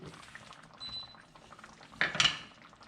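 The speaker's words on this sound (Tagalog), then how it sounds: "ayan natin kumulo hanggang matuyo" Pork ribs simmering in a soy-based barbecue sauce in a pot, with a low bubbling under a faint background, then a brief louder clatter of utensils against the pan.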